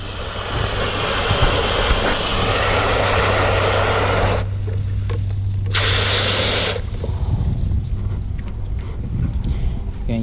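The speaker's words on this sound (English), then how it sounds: "I do have a pressure cleaner. This is a Greenworks 1600 psi." A Greenworks 1600 psi electric pressure washer runs with a loud, steady broadband hiss and motor hum during a car wash, cutting out briefly around the middle before the spray roars back, then dropping away near the end.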